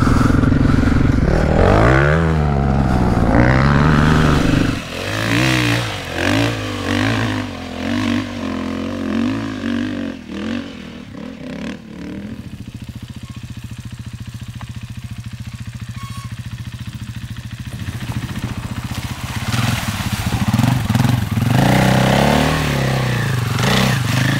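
A 2019 KTM 500 EXC-F enduro motorcycle revs and accelerates up close, its engine note rising and falling in repeated throttle bursts, easing to a lower idle-like drone midway before picking up again, with some scraping and clatter.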